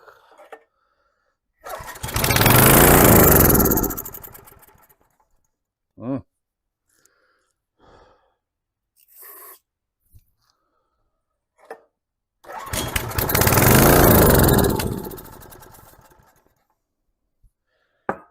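A tiller's small engine is pulled over on half choke in two long loud cranking bursts that sputter and die away without catching, with a few brief clicks and faint knocks in the quiet between attempts.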